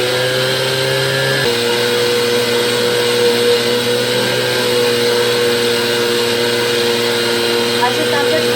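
A stand mixer kneads focaccia dough with added oil and salt, giving a loud, steady motor whine and hum that shifts pitch once early on, then runs on continuously.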